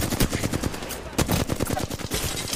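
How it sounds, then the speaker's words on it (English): Fast, loud automatic gunfire in Apex Legends, a steady rattle of closely spaced shots with a brief pause partway through. "We're getting sniped from behind."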